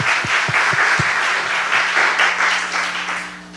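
Applause from a congregation at a Friday night prayer service, with a few sharp claps near the microphone at the start and a steady wash of clapping that fades toward the end.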